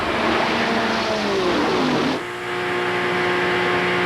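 1992 ARCA SuperCar Series stock race cars roar past at Talladega Superspeedway, a loud sustained engine drone with a sharp pitch drop as the pack passes close by.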